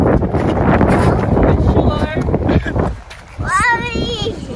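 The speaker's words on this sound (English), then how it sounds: "It's windy, yeah?" Gusting wind buffets the microphone in a steady roar on a snowy day while children talk and exclaim over it.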